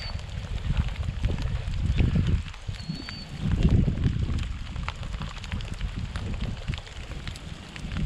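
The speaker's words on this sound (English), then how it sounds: "It's raining in the water here." Rain pattering onto water beside a truck campsite, a dense steady patter with low rumbling swells, fairly close and without voices.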